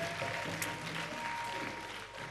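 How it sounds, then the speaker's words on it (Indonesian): Steady applause from a church congregation, a dense patter of clapping held at an even level throughout. "Tepuk tangan yang luar biasa buat Tuhan kita."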